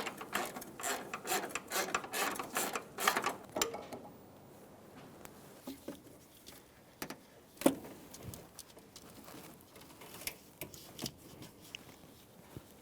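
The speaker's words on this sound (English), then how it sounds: "I'm using a 10mm swivel. We're going to remove the bolt." Ratchet with a 10mm swivel socket loosening a bolt near the motor mount of a 2007-2011 Toyota Camry, a quick run of clicking ratchet strokes at first, then sparser metallic clicks and taps, close and moderately quiet.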